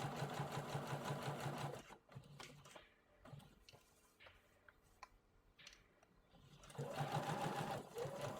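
A sewing machine stitches the side seam of a pair of 18-inch doll capri pants, running in steady whirring bursts at the start and again near the end, with a quieter stretch of handling in between.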